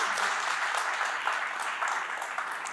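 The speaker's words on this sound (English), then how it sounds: "Have a round of applause." After a tech conference talk on API architecture, the audience claps in a steady, even wash of many hands at moderate level, continuing throughout without talk.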